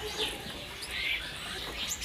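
Caged songbirds at a bird market kiosk give a few faint, scattered high chirps over a steady murmur of background noise.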